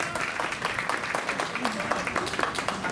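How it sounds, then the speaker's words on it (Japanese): A crowd applauds with dense, steady clapping throughout, blended with the murmur of voices, at the opening of an outdoor trad jazz festival in Shinjuku, Tokyo. "吉住健一新宿長にもう一度大きな拍手をお願い申し上げます。"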